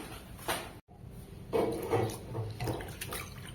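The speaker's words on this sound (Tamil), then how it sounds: "அதுதான் அரிசி களைஞ்சிட்டு இருக்கேன்." Rice being rinsed and swished by hand in water in a home kitchen while preparing a meal, with soft intermittent sloshing and splashing close by, a brief silent gap, then several louder swirls.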